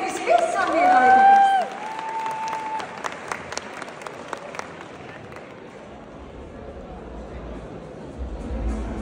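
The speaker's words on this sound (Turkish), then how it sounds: "Şimdi kocaman alkışlarınızla kendisini sahneye davet ediyoruz." Audience applause at a gala evening, a dense burst of clapping in the opening seconds that fades into scattered claps and background murmur, with some voices.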